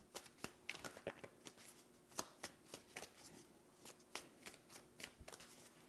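Tarot cards are shuffled in a quiet room, making soft riffling snaps and taps in an irregular rhythm. The sound is faint and close.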